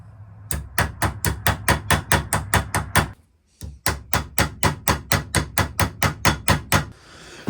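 Pins on a vintage Imperial Boy Scout knife struck with a hammer: a fast, even series of sharp metallic taps, about a dozen in a row, a brief pause, then another steady run, close and loud.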